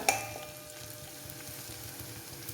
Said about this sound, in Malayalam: ഇഞ്ചിയും വെളുത്തുള്ളി മൂക്കുന്ന ഒപ്പം തന്നെ കറിവേപ്പിലയും കൂടി ഇട്ട് കൊടുക്കാം